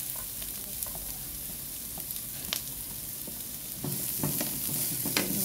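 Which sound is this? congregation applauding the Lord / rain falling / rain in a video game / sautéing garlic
sautéing garlic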